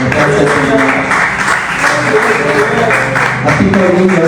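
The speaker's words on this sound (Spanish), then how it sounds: "Dale un aplauso al Señor." A church congregation applauds during a worship service led by a pastor, with sustained, fairly loud clapping mixed with voices and praise throughout.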